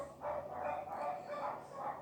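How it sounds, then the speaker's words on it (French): Several dogs barking somewhere off at a distance, faint repeated barks in a steady rhythm, heard quietly with no talk over them. "Oh, les chiens s'agacent là."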